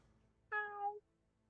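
A cat gives one short, clear meow, close and isolated against a quiet background.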